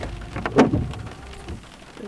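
Rain falling outdoors onto surfaces at an open-air painting spot, a steady close patter of drops with a brief heavier splash near the middle and no voices.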